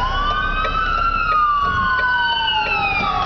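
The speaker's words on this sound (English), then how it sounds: "Oh, hang on, there's an ambulance." An ambulance siren wails loud and close in a steady rising-and-falling tone, heard from inside a car in traffic as the vehicle passes.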